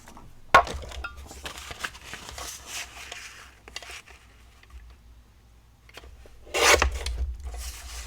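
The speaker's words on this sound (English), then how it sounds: "So of course we're going to need the tonic trimmer." Tonic paper trimmer slicing card to size, with sharp scraping strokes of the blade and scattered handling rustles, a strong cut near the start and another near the end, fairly close.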